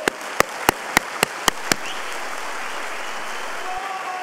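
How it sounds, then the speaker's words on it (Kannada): Sharp, evenly spaced claps ring out about seven times at a Global Yoga Summit speech, then a steady wash of audience applause continues loud and close. "ಒಂದು ಜೋರಾದ ಚಪ್ಪಾಳೆ"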